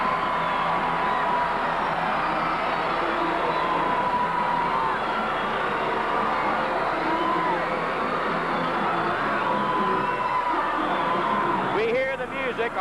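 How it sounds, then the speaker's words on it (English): Sellout wrestling crowd packed into the Coliseum, a dense, steady roar of chanting and clapping that holds loud throughout, with music faintly underneath and a brief rise near the end. "this crowd is starting to chant, starting to clap, and starting to dance"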